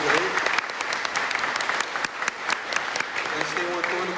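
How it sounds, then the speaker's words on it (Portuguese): Audience in a community territorial workshop meeting applauds its representatives, a steady dense wash of many hands clapping throughout, with some voices and cheers mixed in. "Eu queria pedir uma salva de palmas"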